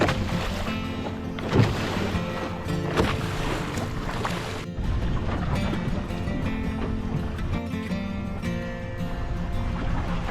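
A boat rides the swell on a rough sea as the tide runs out, with broadband wind and water rushing steadily throughout, a heavy surge near the start and a brief drop midway.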